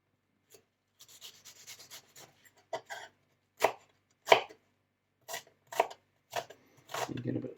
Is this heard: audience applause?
no